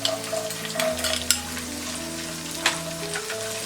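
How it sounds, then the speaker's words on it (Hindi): Green chilies and green peas frying with onions in a pan give a steady close sizzle, broken by a couple of sharp metallic clicks from stirring. No voices. "अब हम इसमें डालेंगे ये ग्रीन चिलीज, ग्रीन पीस,"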